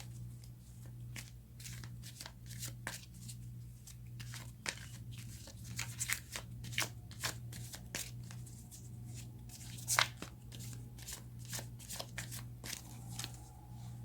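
Tarot cards being shuffled in the hands, a long run of soft papery riffs and flicks in irregular bursts, quiet and close, with a low steady hum underneath and no talking.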